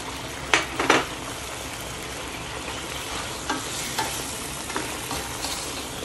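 Onions sizzle and fry in a hot pan for a pork chop dish, a steady close crackle with a few sharp stirring scrapes near the start and no one talking.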